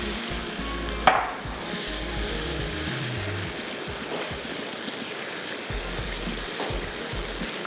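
Marinated chicken, coated in ground and crushed chillies, salt, lemon juice and chicken powder, frying with tomatoes in a pan: a steady close sizzle with stirring scrapes and a sharp clatter near the start, no talk.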